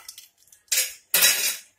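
Cashews and almonds tipped into hot ghee in a pan, two bursts of rattling clatter and sizzle, close and fairly loud, with no talk.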